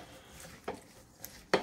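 Arugula salad with prejola being tossed in a bowl, giving a few soft rustles and sharp clinks of utensil against dish, quiet and close, with three distinct knocks.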